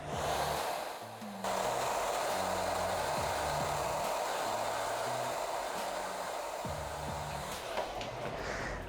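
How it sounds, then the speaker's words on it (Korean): A hair dryer blows on its strongest cold setting with a steady, loud whooshing roar that holds nearly constant, with faint handling knocks and clicks mixed in. "드라이기 찬바람, 제일 강한 바람."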